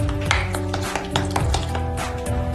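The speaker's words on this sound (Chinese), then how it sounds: "用铲子将豆腐捣碎， 让鸡蛋和豆腐充分融合" A spatula mashes tofu into beaten egg in a pan while making homemade egg-and-soybean tofu: a run of soft, irregular taps and scrapes against the pan over a steady tonal background.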